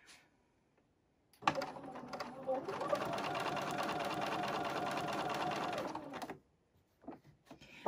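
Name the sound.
sewing machine sewing quilt pieces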